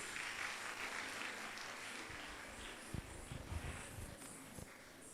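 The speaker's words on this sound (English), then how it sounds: "Please give them a huge round of applause." Applause from the audience at a nursing college convocation ceremony after a student dance performance, a fairly faint, steady wash of clapping with a few louder low thumps and shuffles toward the end.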